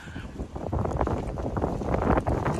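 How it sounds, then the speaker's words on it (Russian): Strong autumn wind buffeting a microphone beside the Chernaya river at an outdoor barbecue, a dense continuous rumble with gusty swells, close and loud, with no talk. "ветер дует вообще сильный-сильный"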